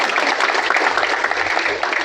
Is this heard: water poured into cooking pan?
no